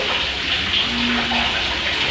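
Water gushes from a hose as a pump drains a flooded sunken bridge amid ice, a steady loud splashing rush with a brief tonal hum partway through.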